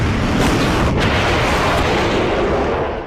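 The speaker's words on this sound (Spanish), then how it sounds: "Una fuerte explosión, un golpe muy fuerte en todo el cuerpo" A powerful, sustained explosion roar from the air war over the Falklands in 1982: continuous loud broadband rumble with deep low-end weight lasting the whole few seconds, fading slightly at the end, no voices.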